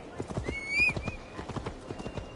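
Hooves clip-clop at a steady trot across a video game landscape in Assassin's Creed Valhalla, with a brief whinny partway through, fairly faint under soft ambience.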